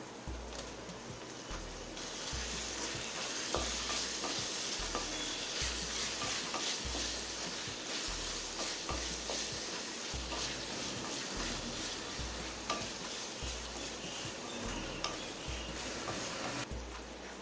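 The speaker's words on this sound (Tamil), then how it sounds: "இப்போ தக்காளியும் நல்லா வதங்கிடுச்சுங்க" Onions and tomato sauté in a pan for prawn masala, a soft sizzle beneath a steady, regular ticking and scraping rhythm that repeats about every second, with no voices.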